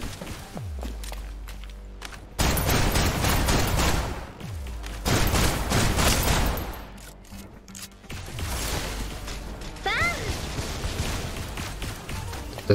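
Gunfire in Snowbreak: Containment Zone, loud bursts of rapid shots in several long volleys separated by brief pauses, with footsteps and mechanical clicks between them.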